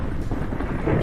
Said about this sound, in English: But I particularly like the way thunderstorms sound